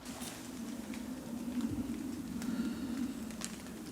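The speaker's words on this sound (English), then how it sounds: "I've just come under this tree to give me a little bit of shelter out of the, well, it's fine rain." Fine drizzling rain falling in the Gloucestershire village of Avening, heard from under a tree as a soft continuous patter with scattered drips, steady and fairly close throughout, with a low steady hum beneath and no talking.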